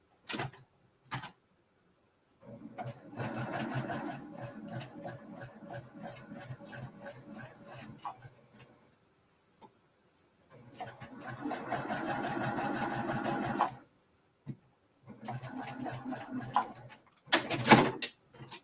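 A sewing machine stitching quilt pieces along a quarter-inch seam, running in several fast whirring bursts of rapid needle clatter separated by pauses and small clicks, close and clear.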